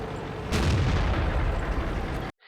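A tank cannon fires in the World of Tanks video game: a loud, close boom at once that rumbles and decays for nearly two seconds before cutting to silence.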